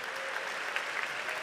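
A church congregation at a celebration and thanksgiving service claps steadily, a dense, even round of applause from many hands with no talking over it.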